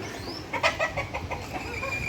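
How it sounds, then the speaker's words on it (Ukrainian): A hen with her chicks at a zoo in Odesa clucks in a quick series of short, bright calls with a faint high peep above, close by against steady background noise. "А курочка з курчатками сидить."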